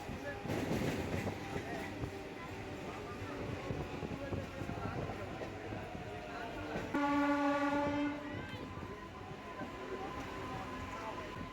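A MEMU train on the Secunderabad to Warangal line rumbles steadily along near Aler, with a loud, sustained horn blast cutting in partway through before the running noise carries on.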